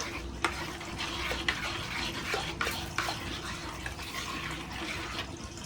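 Yogurt mixed with turmeric being stirred in a bowl, a continuous soft scraping and sloshing with a few light clicks of the utensil, close and moderately quiet.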